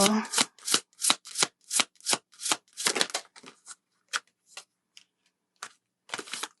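A deck of romance oracle cards is shuffled in quick rhythmic bursts, about a dozen crisp riffling snaps close up, with short pauses between them and a final flurry at the end.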